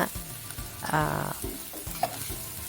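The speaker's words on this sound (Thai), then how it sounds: "เราผัดหมูสับก่อน แล้วก็ตามด้วยเต้าหู้ปลาที่เราเตรียมไว้นะคะ ใส่ผักลงไปคลุกเคล้าให้ดี" Minced pork, fish tofu and mixed vegetables stir-fried in a pan give a close, crackling sizzle, broken by several sharp scrapes and knocks of a spatula working through the food.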